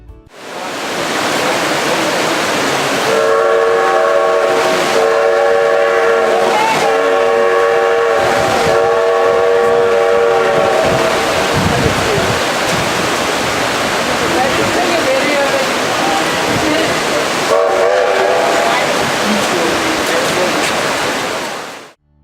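A Durango and Silverton narrow gauge steam train starts moving off in damp mountain weather, its horn or whistle blowing loudly in sustained blasts over a constant roaring rumble of the train.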